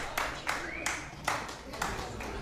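A few audience members clap in scattered, separate claps, roughly six sharp hits spaced unevenly over a couple of seconds, fairly close and set against a low room background.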